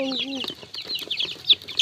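A low cluck opens, followed by rapid high-pitched peeping from several month-old chicks, close by and continuous.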